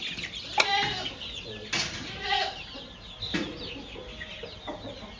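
A domestic rooster at a rural Maharashtra farmhouse gives several short clucking calls at close range, spaced a second or so apart over quiet background.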